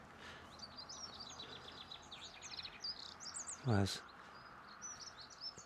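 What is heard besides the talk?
chaffinches, goldfinches and dunnocks singing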